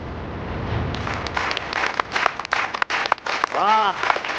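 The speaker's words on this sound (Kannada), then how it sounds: "ಹೊಡಿರಿ ಚಪ್ಪಾಳೆ." A group of people claps in scattered bursts, with sharp, uneven claps that rise and fall. Other sounds from the scene mix in beneath the clapping.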